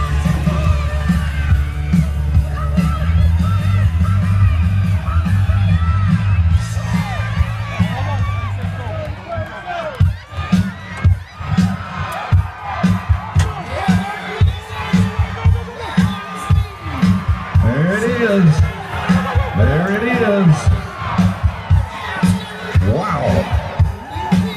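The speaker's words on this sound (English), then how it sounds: "Give them a cheer out there." Crowd cheering at a wild horse race: a loud, sustained outdoor crowd roar with yells and whoops rising and falling in bursts, mixed with announcer-style voices.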